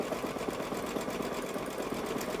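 An embroidery machine stitches a design, a quiet, fast and even mechanical chatter of needle strokes that keeps running without pause.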